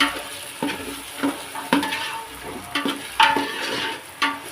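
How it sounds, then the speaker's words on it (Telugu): Carrot, beans, green peas and meal maker are stirred in a pan for a coconut-milk biryani. Soft sizzling sits under a series of distinct scraping strokes and clinks of the spoon against the pan, roughly one per second. "ఇప్పుడు నేను క్యారెటు బీన్స్ అదే గ్రీన్ పీస్ మిల్ మేకర్ వేసి కలుపుతున్నాను"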